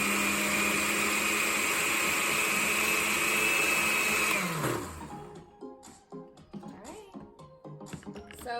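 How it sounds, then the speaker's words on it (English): A blender running on its mix setting churns a blueberry dragonfruit smoothie, a loud steady motor whine for about four seconds that then winds down and stops, followed by faint clicks and handling noises. "now we're ready to blend"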